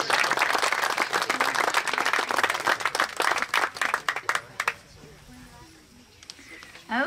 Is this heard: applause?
yes